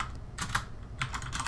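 Keys clatter on a computer keyboard as a column name is typed into a spreadsheet-style data tool, in two short quick bursts of soft clicks with a pause between them.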